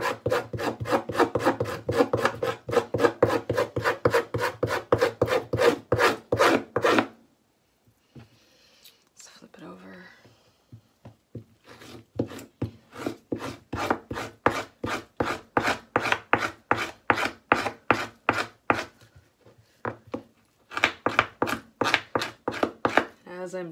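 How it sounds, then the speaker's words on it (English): A salmon skin being prepared for leather tanning is scraped in fast, rhythmic strokes, dozens of close rasping pulls in long runs broken by short pauses, with a soft voice heard during one gap. "You kind of spot scrape one concentrated area."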